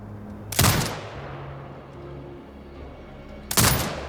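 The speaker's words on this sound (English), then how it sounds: "Exit binocular mode and command the turret to fire." A turret fires in the sniper game Ghost Sniper, giving two loud, heavy blasts about three seconds apart, each with a short decaying tail over a low background hum.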